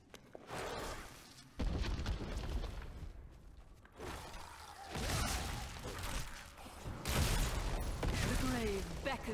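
Explosions and crashing debris from a fantasy dungeon game, several heavy booming bursts with shattering and rumbling tails that recur through the stretch, layered with game sound effects.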